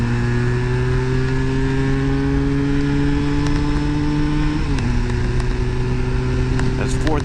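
A Vitacci GTO 332cc motorcycle holds steady in 4th gear, its engine droning loud and constant with a brief dip in pitch midway before settling again, wind roar over the top.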